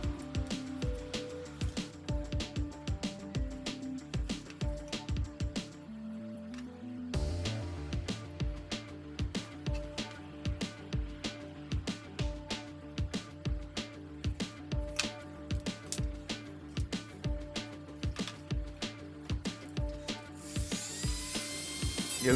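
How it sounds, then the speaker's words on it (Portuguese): A small rotary tool cuts and deburrs PVC pipe with a continuous high whine broken by rapid clicking and grinding bursts, steady and close throughout. "Eu estou usando aqui a minha micro retífica para fazer o corte e para fazer o desbaste aqui de alguma rebarba que ficou"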